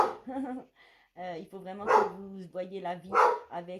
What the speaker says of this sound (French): c'est mon chien, il y a des gens qui passent devant la maison, donc forcément il aboie.